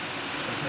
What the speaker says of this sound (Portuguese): olha a chuva, como que tá